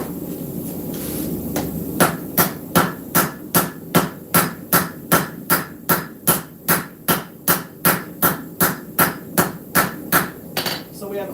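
Hammer blows on hot metal at an anvil during live forging, a steady run of about twenty sharp, evenly spaced ringing strikes starting after a quiet moment, loud and close.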